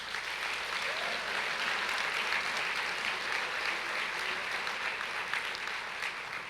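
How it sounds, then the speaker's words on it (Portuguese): A church congregation claps steadily and evenly throughout, a dense continuous patter of many hands filling the room. "Agora você pode aplaudir ao Senhor."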